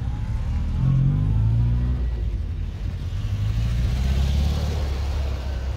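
An early vintage Porsche 911 pulls away with a low, rumbling engine note that swells as it accelerates and then fades into a steady drone, with voices talking faintly nearby.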